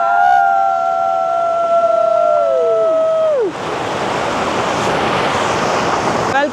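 Vajra Falls in Joida taluk, Uttara Kannada, Karnataka, with a loud, steady broadband rush of falling water filling the second half, after a stretch of gliding whistle-like tones.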